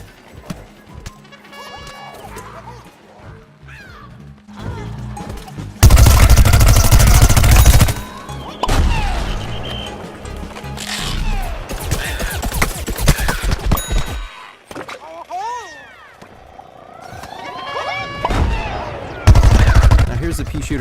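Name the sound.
pea shooter Gatling attack firing in Plants vs Zombies: Garden Warfare video game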